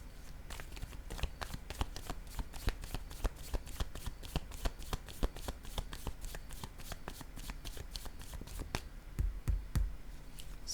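Tarot cards being shuffled, a long steady run of rapid crisp riffling flicks, close and continuous, ending with a couple of duller thumps as cards are laid down.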